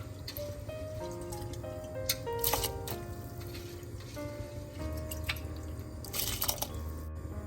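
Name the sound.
rice being added to boiling water for paneer biryani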